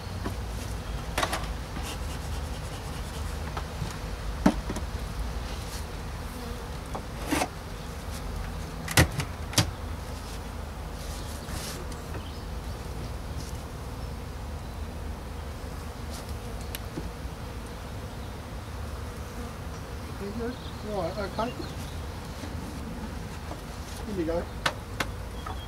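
Honey bees drone steadily from an opened hive during a March inspection, a continuous close buzz with a few sharp clicks and knocks from handling frames.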